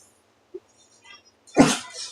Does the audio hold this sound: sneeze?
yes